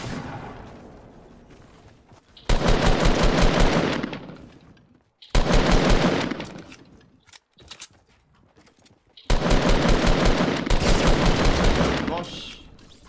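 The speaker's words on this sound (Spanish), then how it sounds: "Me están disparando desde otro sitio." Automatic weapons fire in Fortnite, heard as three long, loud, rapid bursts of machine-gun shots separated by short quieter gaps, with faint in-game noise between them.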